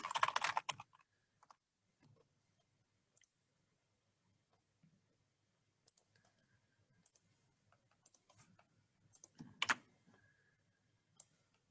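A computer keyboard is typed on in short, sparse bursts of quiet clicks, with a louder cluster of keystrokes near the start and another toward the end, alone with no talking.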